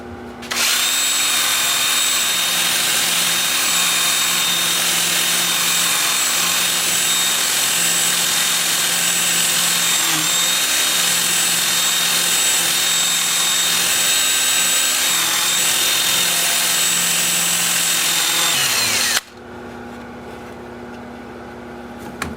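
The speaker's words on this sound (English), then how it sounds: "then I'll switch to my 2-inch disc sander, starting at 80 grit" A 2-inch disc sander fitted with 80-grit paper works a pink dogwood bowl, a loud continuous high whine holding steady for nearly twenty seconds before cutting off into quiet room noise.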